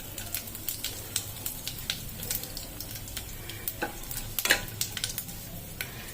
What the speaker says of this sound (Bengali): অল্প পরিমাণ তেল দিলাম, তার সাথে দুটো শুকনো লঙ্কা, তেজপাতা আর সামান্য পরিমাণ গোটা জিরে দিয়ে দেবো।